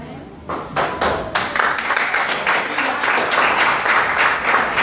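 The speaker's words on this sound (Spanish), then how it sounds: "Fuerte aplauso." An audience at a company event in Sincelejo, Colombia breaks into loud applause, individual sharp claps at first quickly swelling into a steady, dense ovation.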